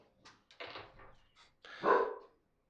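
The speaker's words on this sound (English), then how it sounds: "dog." A dog barks several times in short, uneven bursts, moderately close, with a louder final bark.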